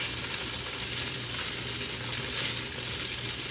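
Beef for a stew browning in a hot pan, giving a steady, dense sizzle and crackle throughout at close range, with no talk over it.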